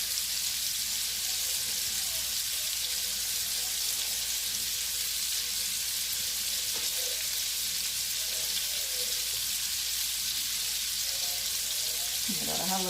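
Minced garlic, two cloves, frying in a pan with Creole seasoning for shrimp and grits, a steady close hiss and sizzle with no voices.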